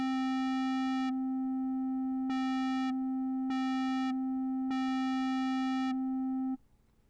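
An Arturia ARP 2600V software synth running its sequencer with gate bus 1 holds a steady buzzy tone with a filter brightening in four rhythmic gated bursts, then cuts off near the end, with no talk.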